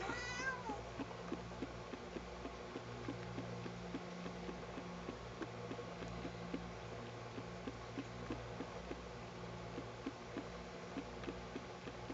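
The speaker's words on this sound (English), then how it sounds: "Cat." A cat that dislikes being combed meows loudly near the start, a short rising-then-falling cry, over a steady low hum with faint repeated ticks for the rest of the stretch.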